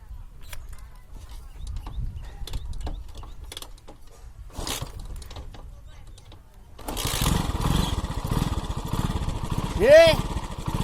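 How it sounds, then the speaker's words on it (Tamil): A motor vehicle engine starts at about the seven-second mark and then runs steadily. It is loud and close, with a brief tonal sweep near the end. "வண்டி ஸ்டார்ட் ஆகிடுச்சு"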